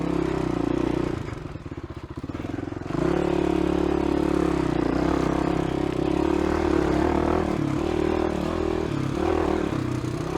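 Motorcycle engine bogging under load in first gear on a trail ride, a loud, steady low drone that sags for a moment early on and then holds a rough, labouring tone, with clattering and scraping mixed in.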